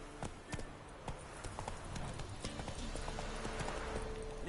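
A horse's hooves clip-clop at a gallop in The Witcher video game, a rapid rhythmic pounding that builds steadily under faint background ambience, with no talk.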